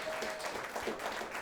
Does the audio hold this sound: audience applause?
yes